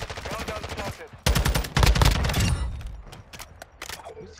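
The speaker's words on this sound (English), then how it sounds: "Who's shooting?" Bursts of rapid automatic gunfire and single shots from a Call of Duty match, loud and dense at first, then thinning into scattered distant shots, with faint voice-like sounds mixed in.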